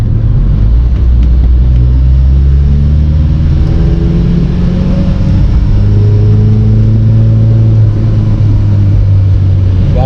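A warm turbocharged car accelerates on a dry road at night, a loud, close engine drone rising steadily in pitch through the gears, filling the whole stretch with continuous rumble.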